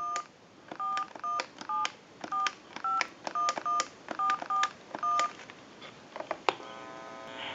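A rapid series of touch-tone beeps from a Western Electric Trimline telephone punched out in quick bursts, each short and crisp, followed by a brief electronic ring at the end.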